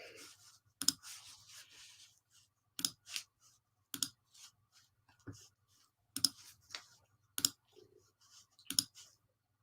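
Sharp, irregular clicks and taps in quick bursts, like fingers striking keys, fairly close with brief gaps between flurries.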